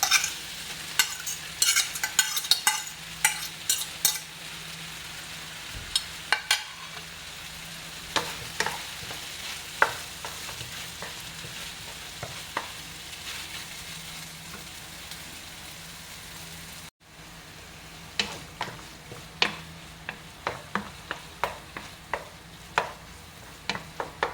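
Crumbled firm tofu tumbles into a hot pan and is stirred, giving a steady sizzle with frequent sharp scraping clicks of the spatula throughout, a brief drop near the end, then more stirring.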